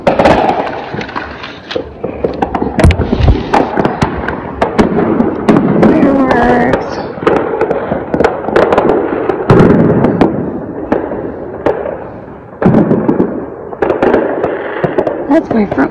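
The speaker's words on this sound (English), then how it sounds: "Oh, you guys, fireworks." Fireworks go off outside at night near a house's front porch, a rapid string of sharp bangs and crackling bursts, some near and loud, others fainter, with a voice speaking at times.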